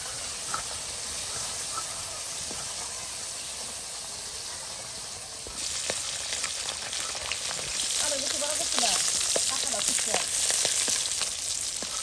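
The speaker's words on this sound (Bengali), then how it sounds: "মাছগুলো ভেজে নেওয়া হলো।" Carp pieces fry in hot oil in a rural village kitchen, giving a steady close sizzle and hiss that swells louder and busier in the second half, with light crackling pops and no talking.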